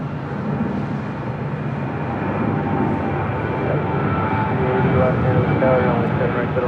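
A Boeing 747 taxiing at LAX during east-flow operations gives off a steady, broad jet-engine rumble and whine that swells slightly toward the end, with faint radio or voice sounds in the background.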